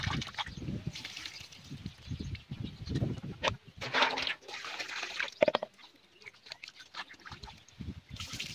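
Snails are rubbed and washed by hand with rock salt in water, producing close, irregular wet squelching, sloshing and scraping sounds at a low level.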